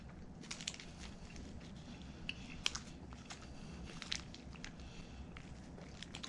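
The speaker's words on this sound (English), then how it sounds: "Bit right through that almond, see?" Dentures biting through an almond inside a Snickers bar, giving faint, close crunching and cracking clicks spread over a soft low rumble, with a few sharper snaps standing out.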